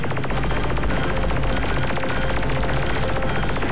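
Rapid, dense automatic gunfire from an enemy in the Ultimate Crab Battle video game. The rattling is loud and continuous, with no speech.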